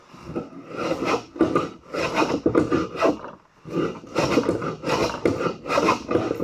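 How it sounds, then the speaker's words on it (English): Jack plane smoothing rough sawn wood for a bathroom vanity, repeated rasping strokes in a steady rhythm with short pauses between passes, close and clear with no talk. "Back to the rough sawn. Back to the jackplane."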